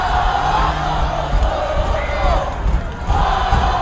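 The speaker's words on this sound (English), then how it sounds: "Mead's rowdy crowd already getting into it." Rowdy Mead High School home crowd at a varsity football game against Frederick, cheering and shouting steadily before kickoff, a loud dense roar of many voices with bursts of whoops.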